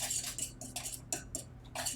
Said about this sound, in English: I'll just use a fork or a whisk to get any major lumps out and make sure it gets well combined.